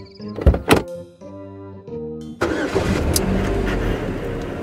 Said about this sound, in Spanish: ¿Y si le prenden el coche al maestro?